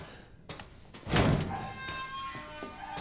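A door in Resident Evil 3 swings open with a heavy thunk and a short rumbling slide, close and fairly loud, with a few faint clicks before and after.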